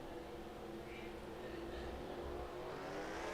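Race cars lapping the Bristol dirt track in a racing video game, a continuous droning engine whine held at a distance and building slightly toward the end.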